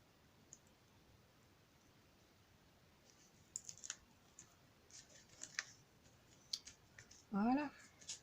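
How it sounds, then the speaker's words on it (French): Special craft scissors snip through paper card in a handful of small, faint, scattered clicks, ending with a brief louder rustle of handled card. "J'ai des ciseaux pourtant."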